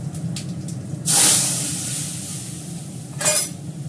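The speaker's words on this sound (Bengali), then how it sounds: "আমি ডালে ফোড়ন দিচ্ছি, একটু 5 ফোড়ন।" Spices for tempering lentils, five-spice seeds, hit hot oil with a sudden loud sizzle that fades, followed by a second shorter burst of spluttering near the end.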